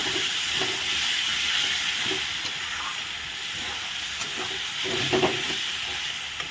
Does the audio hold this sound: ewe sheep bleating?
no